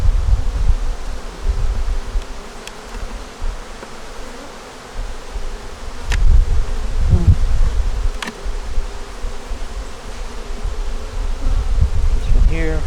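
Honeybees buzz steadily around an open hive being inspected on its frames, a dense close drone that swells and dips across the whole stretch, with a few louder passes near the ear and light rustling.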